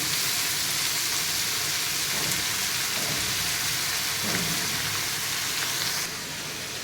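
Onion and garlic frying in oil before red amaranth greens go in, a steady broadband sizzle that holds without pause at close range, with a few faint utensil scrapes and no voices.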